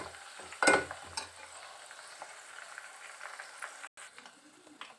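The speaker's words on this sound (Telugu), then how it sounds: "మందారం ఆకు, కరివేపాకు, మందార పూలు, మెంతులు అన్నీ వేసి సన్నని మంట మీద ఫ్రై చేశాను" Hibiscus leaves, curry leaves, hibiscus flowers and fenugreek seeds frying in oil over a low flame, giving a faint, steady crackle and sizzle with a louder stirring scrape near the start, close but quiet.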